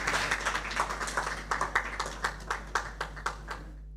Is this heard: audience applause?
yes